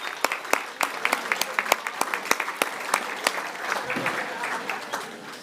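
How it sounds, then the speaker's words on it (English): Round of applause from a crowd at an awards dinner, many hands clapping in a dense, lively patter with sharp individual claps popping out, steady and fairly close, with a brief murmur of voices near the end. "Big round of applause for these guys"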